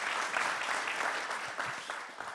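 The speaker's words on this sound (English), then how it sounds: "Can we have applause" An audience at the plenary opening of the Lean & Green International summit claps in a dense, even burst of applause that tapers off slightly toward the end, with no voices over it.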